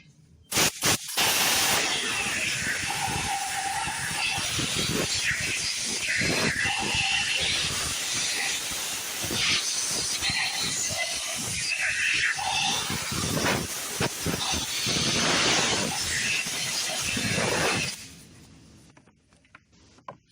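Compressed air blasts debris off parts of a 1961 Johnson 18 HP outboard motor, a loud, close, continuous hiss lasting about sixteen seconds with slight surges before cutting off.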